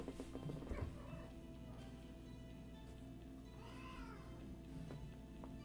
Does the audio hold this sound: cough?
no